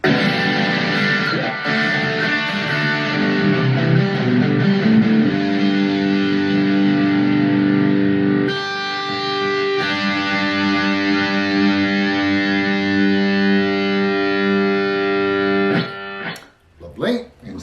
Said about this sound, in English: starting with the distorted or noisy channel, and we are on the bridge pickup.